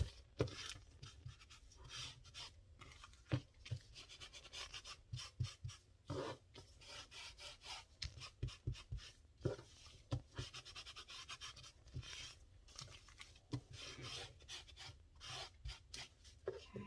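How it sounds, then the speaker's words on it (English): Ink is rubbed onto fabric around a paper stencil, a faint, continuous scratchy scrubbing with uneven strokes and no voices. "I'm going to leave the paper on it. I'm going to ink around it."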